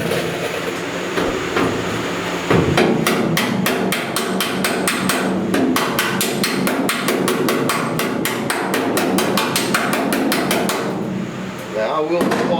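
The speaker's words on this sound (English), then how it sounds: "let's hammer and dolly on that and see what we get" A hammer strikes sheet metal over a dolly to straighten a dent in a car body panel, a fast, loud run of sharp metallic blows in uneven bursts, close by.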